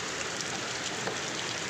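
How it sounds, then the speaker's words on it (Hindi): Large hailstones falling from the sky during a rainstorm make a steady, dense hiss of impacts that stays loud and even throughout, with no voices. "इतना बड़ा बड़ा बर्फ का गोला गिर रहा है आसमान से"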